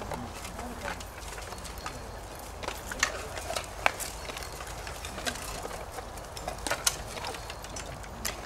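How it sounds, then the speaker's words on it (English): A horse led out on a film set, its hooves walking with soft irregular clip-clops at a distance, faint under general outdoor ambience. "Lead the horse out."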